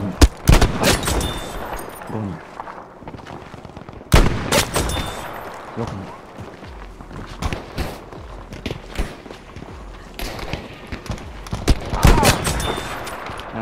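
Gunfire from the Battlefield video game, with sniper headshots among close, loud bursts and single cracks repeating in quick clusters throughout, alongside faint footsteps.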